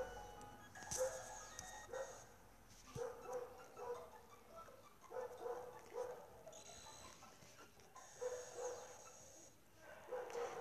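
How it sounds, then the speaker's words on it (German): A dog barks repeatedly somewhere in the background, its faint, irregular yaps recurring over a low hum of game music and room noise. "was muss der Hund da jetzt andauernd bellen?"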